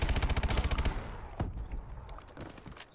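Rapid automatic gunfire in the video game Call of Duty: Advanced Warfare multiplayer, a fast loud burst of shots that breaks off, followed by scattered single shots and game effects.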